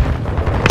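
A loud, close explosion in Call of Duty Modern Warfare 2, a deep booming rumble swelling into a sharper burst at the end of a very short moment.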